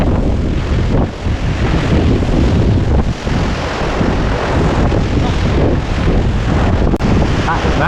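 Strong wind batters the microphone on a mountain top, a loud continuous roaring rush with gusty swells throughout.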